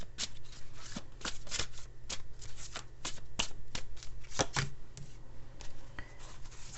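A Chinese tarot deck is shuffled by hand before a card is drawn, giving a dense run of soft, rapid card riffles and slaps, close and steady throughout with no talking.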